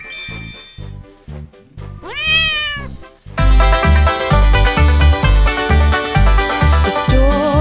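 A single drawn-out meow rises and falls over bouncy, upbeat music, which then swells louder with a strong rhythmic beat.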